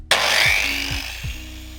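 Felisatti ШМ-750Е wall sander starts abruptly and runs steadily with a bright high whir, with a few low thumps underneath, loud and close with no talking.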